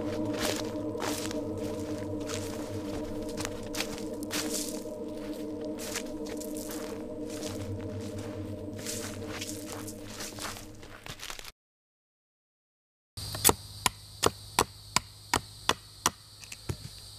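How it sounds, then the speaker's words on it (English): Footsteps of something following the player in the horror video game Survive the Hollow Schoals: a steady run of soft, crunchy steps over a droning ambient hum, then after a brief silence a sparser set of sharper, louder steps. "I can hear their footsteps."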